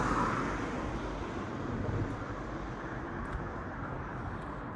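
Cars passing on a road at night make a steady, fairly quiet roadway rumble and hiss that holds evenly throughout with no distinct pass-bys standing out.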